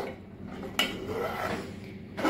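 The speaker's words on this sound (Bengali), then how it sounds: "এটাকে ভালো করে হালকা হাতে মিশিয়ে নিলাম" Payesh, a Bengali rice pudding, is stirred gently in a pot, giving soft scraping and light clinks of a spoon against the metal, with a sharper knock near the middle and another toward the end; no one talks.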